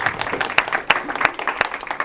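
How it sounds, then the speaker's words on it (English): Brief applause at a student club general body meeting: a small group of people claps with scattered, uneven hand claps, moderately close. "if you see the pizzas, yes, you may clap"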